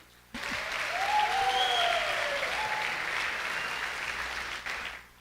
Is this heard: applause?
yes